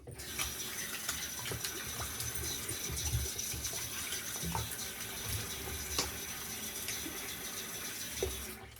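Tap water runs steadily into a sink as shaving soap is rinsed off after a shave with a Gillette Mach 3 razor, a continuous close splashing rush with small irregular splatters and no speech.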